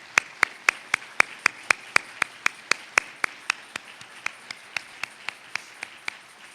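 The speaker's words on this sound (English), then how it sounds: "give them a round of applause" Single pair of hands clapping in an evenly spaced rhythm at a charity gala, about two dozen sharp claps that fade slightly toward the end, heard close and alone without talk.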